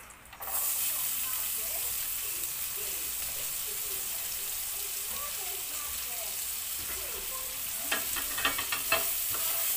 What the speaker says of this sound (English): We have to saute the onion, guys, until translucent